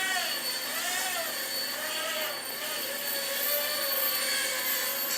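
A Heli-Max 1SQ quadcopter is flying and spinning in yaw, making a steady high-pitched rotor whine whose pitch rises and falls as the motors change speed, close and continuous with no speech.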